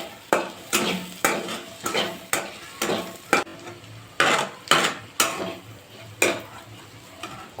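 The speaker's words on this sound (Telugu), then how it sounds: "అలాగే కొద్దిగా గరం మసాలా వేసుకొని కొద్దిసేపు బాగా ఫ్రై చేసుకోవాలి" A potato mixture with garam masala fries in a pan while a utensil scrapes and stirs in regular strokes, each stroke a distinct clatter over a soft, low sizzle.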